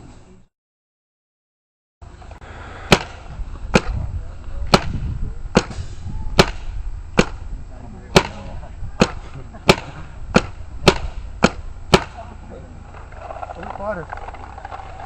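Planet Eclipse Ego and Bob Long Vice paintball markers firing side by side outdoors: about a dozen sharp, loud pops at slightly uneven intervals, each with a short tail, over steady background noise after a brief silent start.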